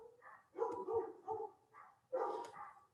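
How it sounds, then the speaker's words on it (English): Several dogs bark in a frantic burst, a run of rapid yapping barks followed by another loud cluster, fairly distant and indoors, with no talking over them. "my dogs go"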